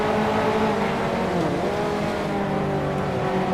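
A race car in a racing video game accelerates at Spa, its loud engine droning steadily with rising and falling harmonics and no talk.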